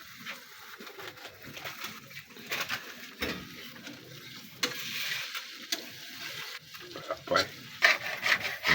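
Eggs frying in a pan and being stirred, a soft continuous sizzle with scraping and rubbing strokes of a utensil, close and moderately quiet.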